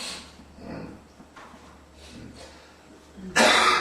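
Muffled shuffling and faint noises lead up to a single loud, sharp cough near the end, close by.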